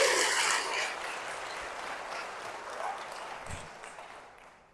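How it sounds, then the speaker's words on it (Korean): A church congregation in a parish applauding, a burst of clapping that starts loud then gradually thins and fades over several seconds, with a faint voice briefly underneath. "박수!"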